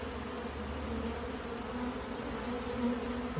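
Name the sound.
honey bee swarm marching into hive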